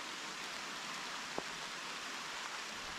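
Steady heavy rain falls outdoors during a wet day of bowhunting on public land in Tennessee, a dense, even hiss with a single brief sharp tick partway through and no voices.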